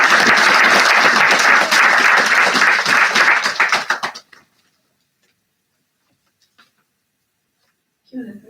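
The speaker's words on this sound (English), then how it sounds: "We give a round of applause to Linda." An audience claps warmly for an author at a literary evening event, dense applause lasting about four seconds before fading into silence, followed by a faint voice starting to speak.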